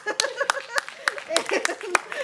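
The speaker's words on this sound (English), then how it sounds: "Let's give a round of applause." A small classroom debate audience gives scattered applause, with a handful of distinct, unevenly spaced claps close by, mixed with chatter and light laughter.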